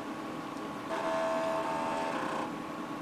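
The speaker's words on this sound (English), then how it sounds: "I love that floppy seek sound." Floppy disk drive in a Compaq Armada E500 laptop seeking, a steady mechanical whirring buzz with a brief tonal whine that starts partway in and stops abruptly, close and fairly quiet.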